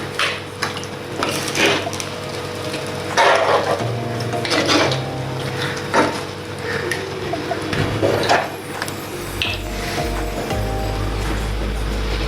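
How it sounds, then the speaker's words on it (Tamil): Metallic scraping and clinking of a utensil stirring country chicken curry in a cooking pot, repeated in irregular strokes, close up with a steady background hum. "இதை கிளறி விடுவோம்."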